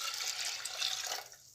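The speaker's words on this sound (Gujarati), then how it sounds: "હવે એમાં આપણે પાણી એડ કરીશું।" Water pours steadily into a pressure cooker holding toor dal, a continuous close splashing gush lasting about a second and a half before tapering off.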